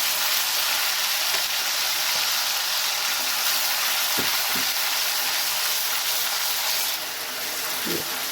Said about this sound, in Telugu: ఉల్లిపాయలు, గ్రైండ్ చేసిన ఉల్లిపాయలు వేసుకొని వేయించుకోవాలి